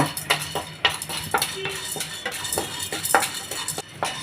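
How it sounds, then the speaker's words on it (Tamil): Chana dal dry-roasting in a pan: close, busy scraping and clinking of a metal spatula against the pan, quick irregular strokes with the lentils rattling about, no sizzle of oil. "கடலைப்பருப்பையும் வறுத்துக்கலாம்"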